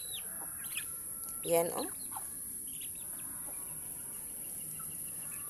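Two-month-old chicks cluck in a farmyard, with a short, louder burst of clucking near the middle over a steady high hiss and scattered faint calls, while someone says a few brief words.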